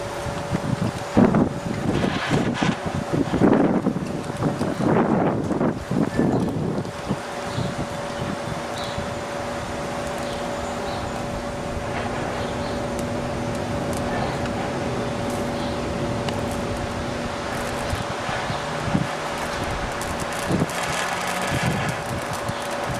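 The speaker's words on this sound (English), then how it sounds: "Now we're going to heat this bolt and show you how fast it heats up." An HHO welding torch heats a metal bolt with a steady, broad rushing hiss and hum that holds evenly for most of the stretch, preceded by a few seconds of louder handling noise and brief talk.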